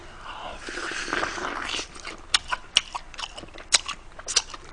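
Someone bites into BHC Puringkle fried chicken close to the mic, first a soft chewy stretch, then a run of sharp, crisp crunches of the coated skin, loud and alone without talk.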